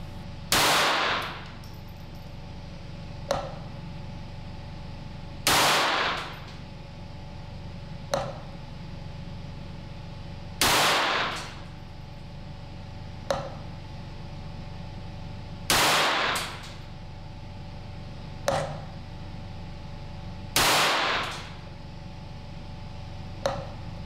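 Rifle shots with Eley Standard bulk rimfire ammunition, loud sharp cracks spaced about five seconds apart, each trailed by a smaller metallic clank, alone with no voices.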